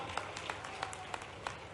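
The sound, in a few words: crowd applause at political rally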